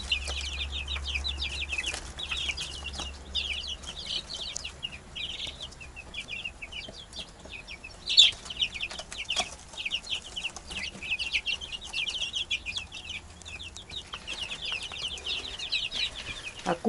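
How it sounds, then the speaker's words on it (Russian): Farmyard chickens cluck and chatter close by at a Russian village homestead, with scattered overlapping calls throughout and a low rumble in the background. "А куры рвутся все время сюда."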